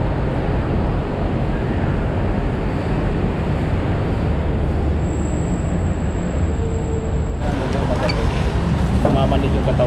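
Steady, loud rumble of a Manila MRT metro train in motion, with a constant drone and a brief high tone; people talk over the noise.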